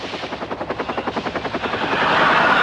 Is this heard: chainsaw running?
no